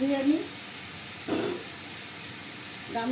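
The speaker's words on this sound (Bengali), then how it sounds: "ধুয়ে ফুটানো গরম জলটা দিয়ে দিচ্ছি।" Boiled hot water is poured into a pan of bitter gourd curry cooking on an induction stove, giving a brief burst of hissing sizzle and steam in the middle, with speech around it.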